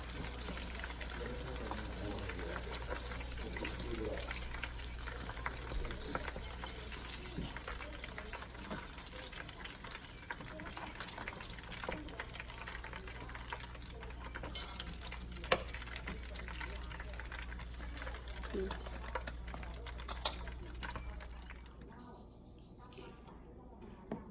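Crispy stuffed egg rolls deep-frying in oil, a continuous soft sizzle and bubbling under a low hum, with occasional clinks, while someone talks over it throughout.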